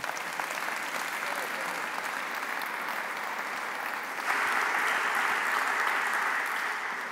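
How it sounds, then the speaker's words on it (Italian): An audience applauding at a public assembly in a hall, dense sustained clapping that swells louder partway through and carries on without a break. "Un applauso, grazie."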